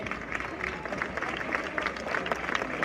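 Applause from an audience at an end-of-year school festival, greeting the dance director: a steady, dense wash of clapping that stays even and fairly close for the whole stretch.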